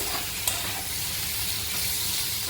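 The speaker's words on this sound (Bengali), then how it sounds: "এই যে মশলাটাকে আমি 2-3 মিনিট ভাজলাম" Spice paste frying in a pan for an arbi (taro) curry, a steady close sizzle with faint stirring scrapes and one brief clink, no voices.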